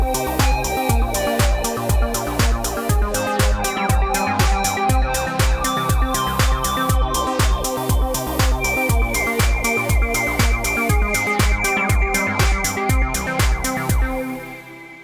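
A synthwave track built on an Akai MPC X SE with the Akai Juno VST and Flavor Pro: steady pounding drum beat with sustained synth pads and lead lines, loud and continuous, fading out at the end.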